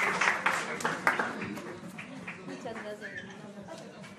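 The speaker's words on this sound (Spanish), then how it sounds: "quiero solicitar un aplauso súper fuerte" Audience applause at an award ceremony, with steady clapping that starts strong and gradually thins out, mixed with crowd chatter and a few chuckles over the whole span.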